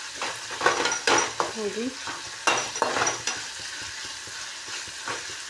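Chopped onion and tomato fry in a pan, with a crackling sizzle broken up by repeated scraping stirs close by. A voice speaks briefly partway through.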